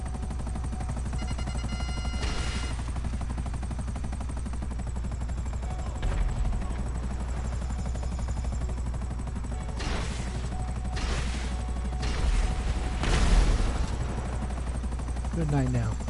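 GTA Online helicopter rotor droning throughout, with bursts of gunfire and crashes breaking in near the end.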